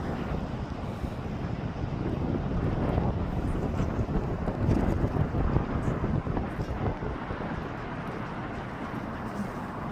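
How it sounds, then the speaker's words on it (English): Wind gusting across a hilltop outdoors, a constant low rumbling buffet against the microphone that swells briefly midway, with no voices. "A little windy up here."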